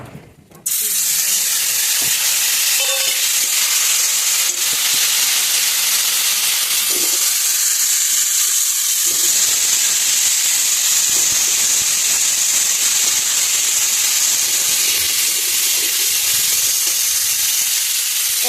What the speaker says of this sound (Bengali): এই যে রাঁধুনি ফোড়ন দিয়ে দিলাম